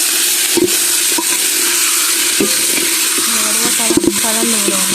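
Raw chicken pieces stirred in a cooking pot for a spicy chicken soup, with a steady sizzle and repeated scraping, clanking strokes of a spoon against the metal, close and loud, with no talk.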